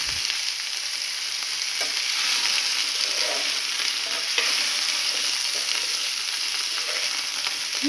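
Steady sizzling of potatoes frying in a pan, with a few soft scrapes of a spoon stirring them, close and continuous with no talking.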